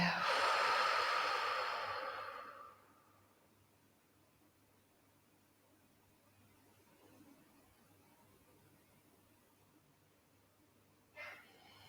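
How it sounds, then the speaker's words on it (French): Slow breathing during a guided relaxation exercise: one long, breathy exhale rushes close to the microphone, then fades into quiet room hiss, with a brief soft breath sound near the end. "On inspire. Et on expire."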